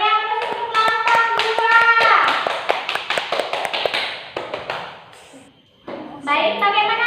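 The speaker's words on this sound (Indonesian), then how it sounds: "Ya benar, beri aplaus untuk kelompok" Classroom applause for a student group, a burst of sharp hand claps from children mixed with young voices calling out, fading to near quiet before a teacher's voice and more chatter return.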